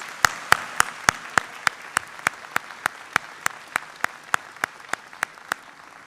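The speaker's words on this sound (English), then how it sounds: "Let's give them a round of applause." Clapping at a spring 2024 SUNY WCC commencement ceremony for graduates: a steady, evenly paced series of about twenty crisp claps, close and distinct, with a faint room wash behind them.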